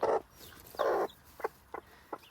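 Hens clucking near newly hatched chicks in a Rhode Island cross brood, two longer calls followed by three short clucks, fairly close with quiet gaps between.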